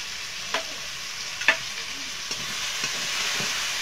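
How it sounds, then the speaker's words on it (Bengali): Chopped onion, garlic and tomato sizzle steadily in hot oil in a pan, with a constant crackling hiss and a few soft clicks of stirring, no voices. "তেলটা গরম হয়ে গেছে, আমি পেঁয়াজ রসুনটা দিয়ে দেব।"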